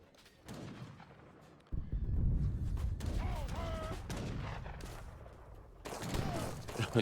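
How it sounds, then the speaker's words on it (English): Booming horse artillery fire rolls through a noisy battle in Age of Empires III, heavy blasts and rumbles layered with distant crackling shots and shouting. "Goons getting smacked by horse artillery."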